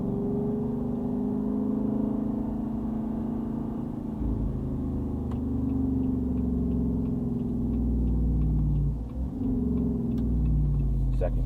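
A 2022 Jeep Wrangler Unlimited Rubicon 392 in manual mode accelerating toward highway speed, heard from inside as a loud, low engine rumble that builds, dips briefly at a shift, then pulls on, with faint ticking above.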